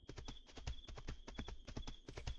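Horse hooves clip-clop steadily in the Fields of Mistria video game, a quick even trot of hoof beats over a continuous game tone, with no talk.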